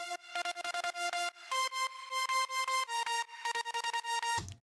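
Two stacked supersaw synthesizer layers in a music production play bright, buzzy chords in a chopped, pulsing rhythm, shifting pitch a few times before stopping abruptly; the synths are alone with no voices.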